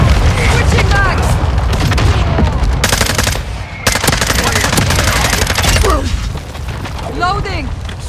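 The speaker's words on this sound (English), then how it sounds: "Friendly mortar strike on the way." Mortar strike explosions and gunfire in Call of Duty MW2 make a dense, loud barrage of rapid shots and booms with brief lulls, while voices call out over the battle.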